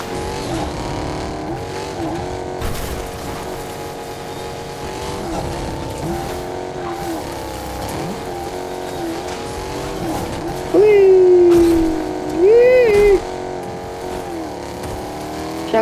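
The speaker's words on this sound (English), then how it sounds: "I'm really good with drifting these cars" Cars drifting in the video game Fortnite rev and whine continuously, with shifting engine pitch and sharp, loud tire squeals near the end.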